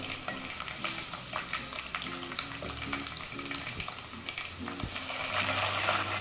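Garlic cloves and Kashmiri chillies frying in hot oil for mango pickle, a steady crackling sizzle with occasional stirring scrapes of a spoon against the pan, growing slightly louder toward the end.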